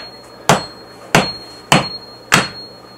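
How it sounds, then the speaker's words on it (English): A hammer drives a chisel into layered rock in four loud, close metallic strikes, spaced evenly about half a second apart, each ringing briefly before the next blow. "Give it a whack and see."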